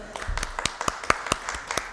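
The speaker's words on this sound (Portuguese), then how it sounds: "palmas, gente, para a Lúcia, para a equipe da Comissão do Trabalho" Scattered applause for a staff secretary and a labour committee team at an annual review meeting, a few hands clapping in an uneven rhythm, moderately close with no talk.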